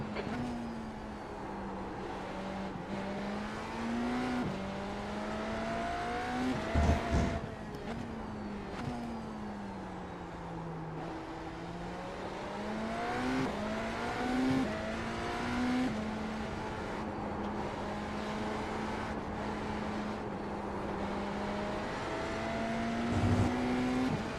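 Race car engines on track at Circuit of the Americas in the iRacing sim, a steady loud drone with rising and falling pitch through gear changes and corners, occasional tire squeal, alone without talk.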